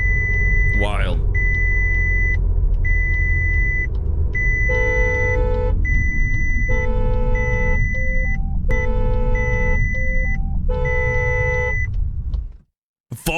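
A car's driver-drowsiness warning sounds a series of repeated electronic beeps and chimes in clustered patterns over the low hum of the moving car, with a short rising sweep early on.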